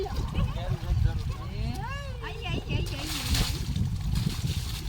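Water splashes and sloshes as two people wash a car in a clear, cold river, a busy watery wash of small splashes that runs under overlapping voices, with a brief dog-like bark.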